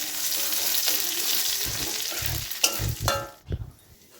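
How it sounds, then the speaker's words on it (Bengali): Grated garlic fries in a pan with a steady close sizzle, broken by louder stirring scrapes near the end, with no talk. "তাই গ্রেট করা রসুনগুলো দিয়ে আমি একটু ভেজে নিচ্ছি।"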